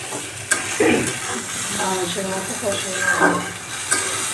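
Eel fish frying with spices in a pan sizzles steadily nearby while a spoon scrapes and stirs through the thick mixture, with a couple of sharp taps on the pan.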